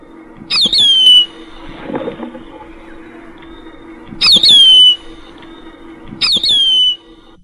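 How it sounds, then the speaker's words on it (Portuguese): Three loud, sharp descending calls of a grey-bellied hawk, each a piercing whistled scream, spaced a couple of seconds apart over a faint background hum. "Um gavião-pombo faz-se ouvir perto."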